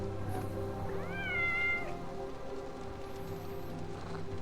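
A cat gives a clear, drawn-out meow over a steady background hum and patter like light rain, followed later by a fainter, higher second call.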